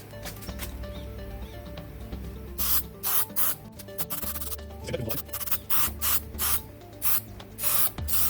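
Aerosol spray can on a Holden HZ One Tonner being sprayed in repeated short hard bursts with a sticky nozzle, loud hissing blasts separated by brief pauses over a steady low background hum.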